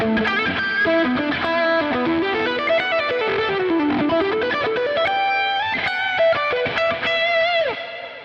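A saturated, distorted high-gain electric guitar tone from a Line 6 Helix plays a fluid lead line with sustained notes and bends, loud and continuous without any voices.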